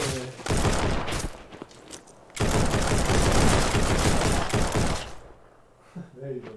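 Gunshots in the video game Tall Order come in two loud sustained bursts of rapid fire, one near the start and a longer one in the middle, with quieter gaps where a voice talks.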